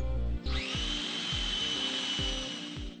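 Self-drilling screws driven with a power drill into a metal bracket holding thin-wall EMT tubing: a sustained high drill whine over the full span, with a few short repeated low thumps as each screw seats.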